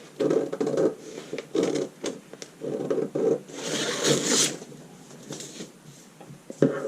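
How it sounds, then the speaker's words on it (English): Scissors cut through fabric along a garment's side seam, giving bursts of rustling, snipping strokes in an uneven rhythm, close by and moderately loud, with short pauses between cuts. "We're cutting up our side seam."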